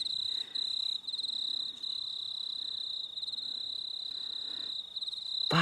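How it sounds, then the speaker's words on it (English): Steady chorus of crickets chirping at night in a cemetery, a continuous shrill trill carried throughout with slight wobble in level, fairly close and loud, no talk. "Well, the crickets are noisy."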